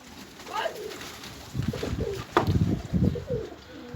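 Pigeons coo in low, throaty bursts, several overlapping calls close by, with faint chirps and background noise.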